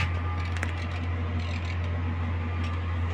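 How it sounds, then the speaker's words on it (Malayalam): A Nissan six-wheel petrol school bus idles quietly with its engine running, a low steady hum and drone that continues unchanged throughout, heard from inside the cabin with no voices. "പെട്രോൾ ബസ് ആയതുകൊണ്ട് ഇപ്പോൾ സ്റ്റാർട്ടിങ്ങിലാണ് ഈ ഒരു ബസ് ഉള്ളത്."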